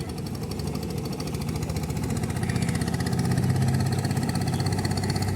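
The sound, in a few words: motorboats speeding on the Jamuna river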